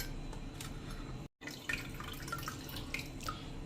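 Soaking water drains off rice, trickling and dripping in a quiet, uneven splatter with a brief silent gap partway through.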